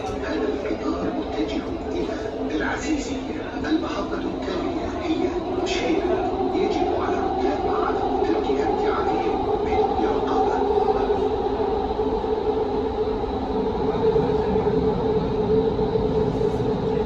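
An unmanned passenger train in Doha rumbles steadily along the track with a continuous low roar and faint rattling, while voices murmur in the carriage.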